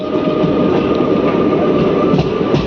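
A Guntur–Vikarabad Palnadu SF Express rolls along the rails in a steady, loud, continuous rumble heard from on board, with a faint tonal hum running throughout.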